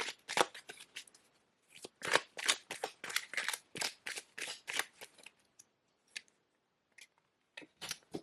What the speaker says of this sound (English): Everything is pre-shuffled, by the way.